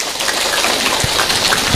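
A crowd at an Islamic religious gathering breaks into loud, dense applause that fills the room with a thick, continuous hiss of clapping and no talk.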